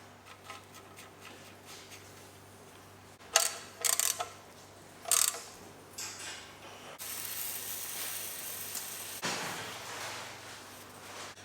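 A ratchet on a 2018 Nissan Qashqai 2.0 petrol sump plug gives a few quiet clicking bursts between faint mechanical handling noises and a low background hum.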